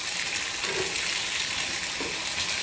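Ivy gourd (kovakkai) sautéing in oil in a pan, giving a steady, dense sizzle and crackle that runs unbroken throughout, close up and with no talk.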